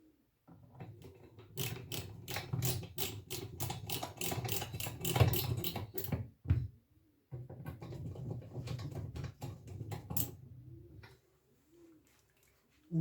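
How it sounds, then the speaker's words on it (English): Screws are driven into the back of a Pioneer SX-1250 stereo receiver, giving two stretches of rapid, even clicking ratchet bursts, close and moderately loud, split by a short pause. "I can start to put the screws. I will start with the screws here on the back."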